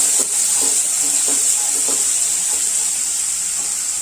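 Onions frying in a pan for an okra gravy, a steady close hiss of sizzling oil with a few soft stirring scrapes, no talking.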